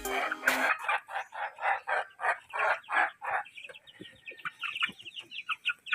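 Chicks and chickens just let out onto the ground after a bath, a close burst of rhythmic clucking and cheeping with a rooster-like call, repeated calls coming in quick pulses throughout, no talk.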